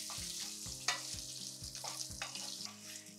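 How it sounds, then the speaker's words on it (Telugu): Curry leaves, dried red chillies and asafoetida sputter and crackle in hot oil, a soft sizzle broken by rhythmic spoon stirs and pops, fairly quiet and close, with no speech. "కరివేపాకు, ఎండుమిరపకాయ కూడా ఇప్పుడే వేసేయాలి, అలాగే ఇంగువ ఇంకా కలిపి లైట్గా ఫ్రై చేసేయండి"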